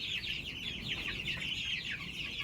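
Two-week-old meat chickens cluck and chirp continuously in a brooder, a busy, overlapping chatter of many birds at moderate volume with a low background hum.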